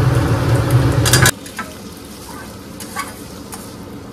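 Diced potatoes hit a pan of hot oil with onion, garlic and ginger, a loud dense sizzle that drops abruptly to a quieter steady frying hiss with a few soft clicks of stirring.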